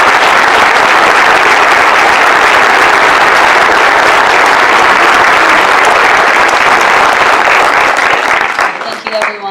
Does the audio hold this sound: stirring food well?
no